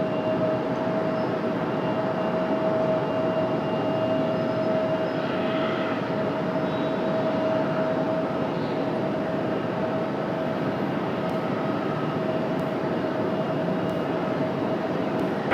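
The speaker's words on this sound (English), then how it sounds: "Our next arrival, 737 MAX 9." A United Boeing 737 MAX 9 arriving from Newark at Raleigh-Durham airport produces a steady, continuous engine roar, fairly distant and unchanging, alone without voices, with a faint whine running through it.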